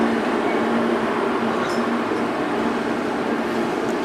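Inside the Sealdah–Puri Duronto Express as it pulls into Puri, a steady, loud rumbling roar of the moving train continues without a break, with a faint hum and no voices.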